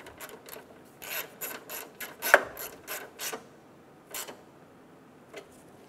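Ratchet clicks as a 10 millimeter bolt is snugged down on the exhaust manifold of a 2007-2012 Nissan Altima, short close bursts of rapid clicking with brief pauses between strokes, in a quiet setting.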